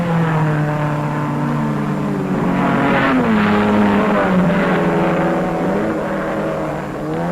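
Race cars running through the night at the 1957 Sebring 12 Hours, with a steady loud drone of engines and shifting pitch as cars pass, no talk.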